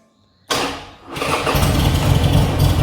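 A Buell XB motorcycle engine with a low charging voltage cranks briefly, then fires and settles into a loud, steady idle rumble, close up with no talking.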